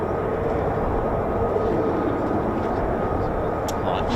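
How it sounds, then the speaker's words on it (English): F-35 fighter jet passing over an RAF fighter base, a steady, loud broadband roar of jet engine noise held throughout without breaks. "Right, we've got another F-35 on the left."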